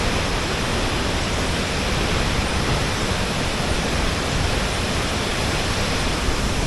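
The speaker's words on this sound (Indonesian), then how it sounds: "lokasi air terjun yang ada di daerah Banyumas ini yang sangat terkenal ya" Waterfall in Banyumas at night, a dense, unbroken roar of falling water that stays loud and even throughout, with no voices.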